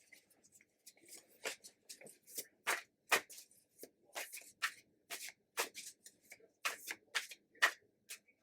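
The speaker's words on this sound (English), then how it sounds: "I'm going to give these cards a little bit of their shuffle" Tarot cards being shuffled over and over, a run of crisp papery riffles and flicks arriving in quick irregular bursts, close by.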